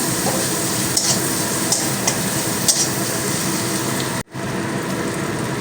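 Onion fries in butter in a pan for chicken soup. A loud, steady sizzling hiss carries soft periodic stirring taps and cuts out briefly near the end.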